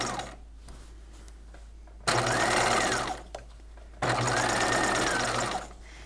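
A sewing machine understitching a bodice seam runs in two steady, loud whirring bursts of about two seconds each, separated by a quiet pause, with no voice over it.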